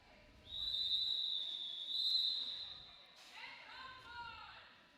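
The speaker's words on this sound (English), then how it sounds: "That's that end halftime whistle" A referee's whistle at a roller derby bout signals halftime with a long, piercing steady blast followed by a shorter one, heard over a quiet arena murmur, with some faint voices afterward.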